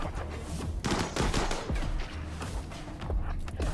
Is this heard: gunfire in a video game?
yes